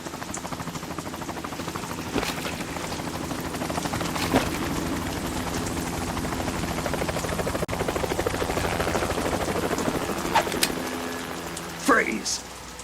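A helicopter in the video game Metal Gear Solid 2 gives a steady rotor drone throughout, loud and close, with brief clanks and voices in the background.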